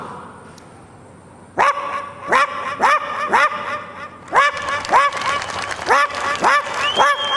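A voice imitates a poor household's dog barking, producing a quick series of sharp, close barks in an uneven rhythm after a quiet opening second.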